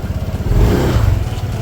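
Scooter engine starting and revving: a short burst of chugging, clattering engine noise that swells into a brief revving roar, close and loud, with no talk.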